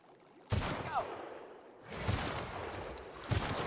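Sniper rifle shots in The Outer Worlds, three loud sharp blasts spaced over a few seconds, each followed by a long rumbling decay, with no talking.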